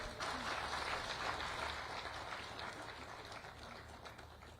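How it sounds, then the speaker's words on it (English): Audience applause at a private-sector CEO forum before President Museveni, steady dense clapping heard fairly faint and distant, fading slightly toward the end. "Let's give Irene a better clap."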